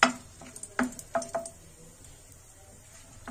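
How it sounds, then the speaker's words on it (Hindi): Cinnamon, bay leaves and dried red chillies frying in a spoonful of oil in a kadai, with soft crackles, several sharp clinks and squishy pops that fade to quiet. "1/2 सेकंड के लिए फ्राई कर लेंगे।"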